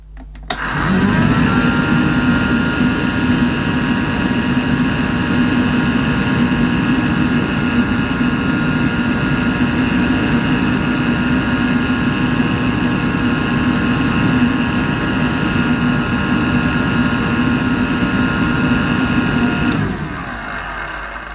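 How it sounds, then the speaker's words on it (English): A Casdon Dyson DC01 toy vacuum cleaner sucks up polystyrene balls with a loud, close, steady whirring motor hum and a faint airy rush, running unbroken for about twenty seconds before easing off. "this Casdon Dyson does seem to have quite a large dust box, so I'm hoping it's going to pick all these polystyrene balls up"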